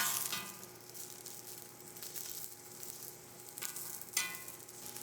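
Sous vide lamb chops sear in their own rendered fat in a hot skillet, giving a steady close sizzle with brief louder crackling bursts and no voices.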